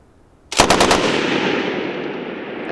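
A Bren light machine gun fires a burst of about five rapid, loud shots, followed by a long ringing echo that slowly fades.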